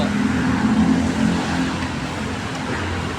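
Steady highway traffic rumbles nearby, a continuous wash of passing cars and heavier vehicles with no clear gaps, loud and close.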